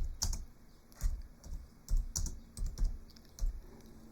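Keys clattering on a computer keyboard in short bursts of clustered clicks, close and fairly crisp, with brief pauses between groups; no one speaks.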